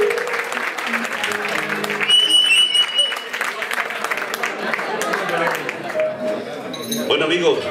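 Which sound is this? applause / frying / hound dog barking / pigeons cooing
applause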